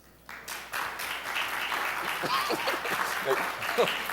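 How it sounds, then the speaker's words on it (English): A debate audience breaks into applause for the proposition team, a close, dense wash of clapping that starts abruptly and holds steady, with a little chuckling mixed in. "Those who support the proposition team, let's hear your round of applause"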